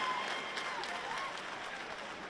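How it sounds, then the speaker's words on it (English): A crowd at a women's MMA event in Bangor, Maine applauds two fighters after a three-round bout, a broad, sustained roar of clapping and cheering that slowly fades, with a voice faintly under it. "Folks, how about a round of applause for both of these ladies"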